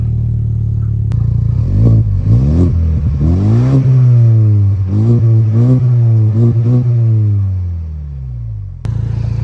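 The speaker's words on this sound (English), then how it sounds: "Let me see if I can prop the camera up and go rev it so you guys can hear it on camera." A 2024 Ford Ranger XLT 4x4 with a Magnaflow stainless 3-inch cat-back exhaust is revved repeatedly, its loud, close engine note rising and falling in several throttle blips before settling back toward idle, with no talking.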